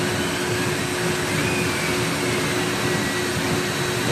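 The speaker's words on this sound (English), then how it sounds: "we're going to show you how much dust was collected inside of the vacuum bag" A vacuum cleaner sucks dust out of a dryer vent, giving a loud, steady, unbroken roaring drone with an airy hiss that holds constant throughout.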